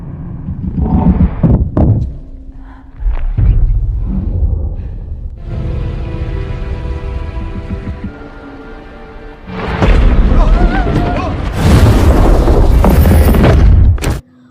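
A bomb explodes in a science fiction film scene involving alien heptapods, heavy booming blasts and thuds with a roaring rumble and broadband debris noise that swell loudly near the end, mixed with film score tones.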